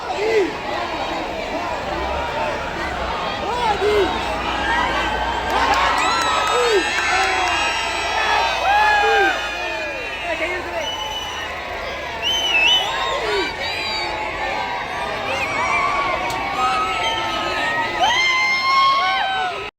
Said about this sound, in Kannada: ರಸ್ತೆ ಉದ್ದಕ್ಕೂ ಕೇಳಿ ಬಂದ ಜೈಕಾರಗಳು ಅಲ್ಲಿನ ವಾತಾವರಣವನ್ನು ಮತ್ತಷ್ಟು ಉತ್ಸಾಹಭರಿತಗೊಳಿಸಿದವು